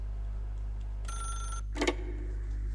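A telephone rings in the video game The Stanley Parable Ultra Deluxe, a single bright electronic ring burst followed by a short clatter as the receiver is picked up, with no talking.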